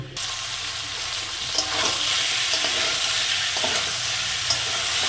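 Chicken pieces with spices and potato sizzle steadily in a pan while being sautéed and stirred, a continuous close frying hiss with occasional scraping stir sounds, no talking.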